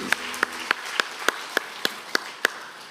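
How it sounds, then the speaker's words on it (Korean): A church congregation claps in a sparse, slightly uneven rhythm of about nine sharp claps, each distinct and bright, with a faint hum beneath. "우리 하나님께 감사와 영광의 박수."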